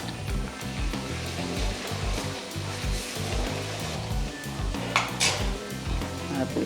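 Garlic and ginger frying in a pan for a soya dish, a steady close sizzle with repeated scraping and clinking of a spoon against the pan, building to a louder burst near the end.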